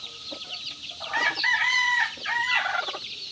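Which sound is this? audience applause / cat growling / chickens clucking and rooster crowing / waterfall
chickens clucking and rooster crowing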